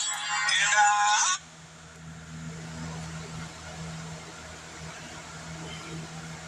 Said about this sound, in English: Thought my phone was on silent.